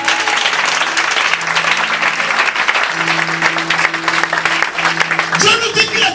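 A church congregation applauds the Lord, sustained loud clapping filling the room with voices and tones mixed in, ending in a brief louder swell.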